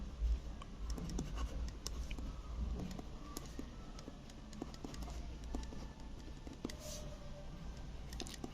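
Pen writing by hand on paper or a board during a Class 12 accounts lesson on goodwill, a soft continuous scratching with small taps, close and quiet, with no talk.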